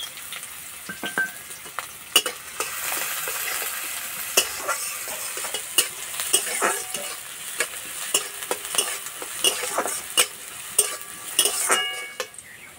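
Chopped onion and green chili sizzle steadily in hot oil in a wok, with a constant frying hiss broken by frequent sharp spatula scrapes and stirring clicks, close and fairly loud, no talking.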